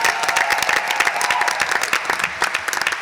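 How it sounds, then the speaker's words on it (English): An evening event audience applauds with fast, dense overlapping claps that stay strong and busy throughout, some individual sharp claps standing out near the mic. "Please give her the same big round of applause that we just heard."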